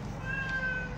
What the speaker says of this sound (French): Alia vient de nourrir un des chats.